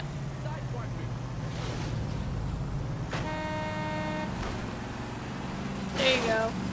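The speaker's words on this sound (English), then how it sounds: "Don't honk at me." A car horn honks in the L.A. Noire video game, sounding in short blasts over steady engine and traffic rumble while someone talks nearby.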